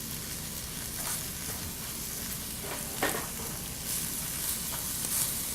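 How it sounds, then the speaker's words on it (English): Spices sizzle and fry in a hot pan, a steady close crackling hiss with occasional sharper pops. "So we're going to give them a little sizzle"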